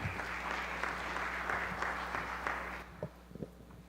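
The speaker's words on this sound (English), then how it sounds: "Let's give him a big round of applause" An audience at a medical research symposium gives a round of applause, dense steady clapping over a low mains hum that fades out after about three seconds, leaving a few scattered claps and thumps.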